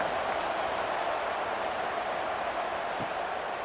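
Home crowd at an SFL football game between the Defenders and Roughnecks, a steady broad roar of cheering and noise filling the stadium throughout, loud and continuous with no talk.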